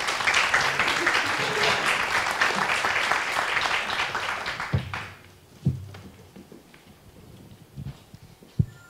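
An audience at a panel discussion on television and global health topics applauds loudly and steadily for about five seconds before the clapping dies away to scattered taps and shuffles in the room.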